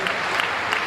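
A crowd claps loudly for the Chief Minister at the Bageshwar Dham mass wedding festival in Madhya Pradesh: a brief, dense burst of applause with no voices.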